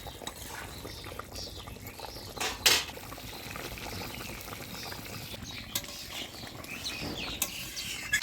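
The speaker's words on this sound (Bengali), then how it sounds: "ঝোলের বলক আসছে" A Bengali chela fish curry gravy with potato and eggplant bubbling to a boil in a pot makes a soft, continuous simmer with a few faint utensil clinks, with no talking.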